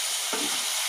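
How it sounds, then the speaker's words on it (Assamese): Goat meat frying in a pan with potatoes and papaya being stirred in, a steady close sizzle with a short scraping stir partway through. "এনেকৈ অমিতা আৰু আলুখিনি ভালকৈ লৰাই দিলে ধুনীয়াকৈ।"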